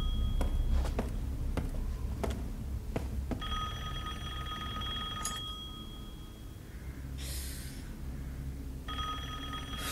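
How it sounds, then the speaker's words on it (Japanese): A telephone rings inside the video game Resident Evil Village, in a run-down area of Castle Dimitrescu. A steady electronic ring with bell-like tones repeats through the middle of the clip over low game ambience and scattered impact sounds. "電話が鳴っている。"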